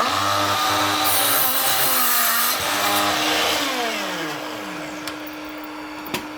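A loud, steady power-tool whine with a motor hum from a DeWALT 20V MAX 7-1/4-inch cordless sliding compound miter saw making cuts runs continuously, pitch shifting slightly as it works, then two sharp clicks near the end.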